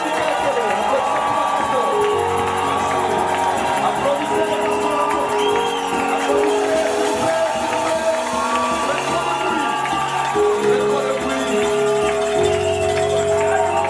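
An audience at a church foundation ceremony applauds and cheers, producing a loud, dense and continuous wash of crowd noise with shouts and whoops, while voices and music sound through it.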